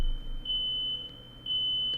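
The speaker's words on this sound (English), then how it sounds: "Smoke detector's going off in my house." A smoke detector alarm going off inside a house sounds a steady high-pitched electronic tone, fairly loud and nearly continuous over the two seconds with brief dips, heard alone without talk.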